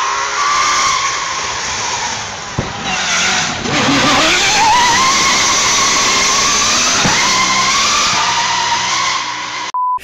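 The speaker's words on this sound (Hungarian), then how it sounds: "az nagyon komoly rally autó, olyan fura hangja van" A loud, sustained rally car engine in the video game Forza Horizon 4 revs and drones with rising and falling pitch, a brief tire skid mid-way, steady and close throughout.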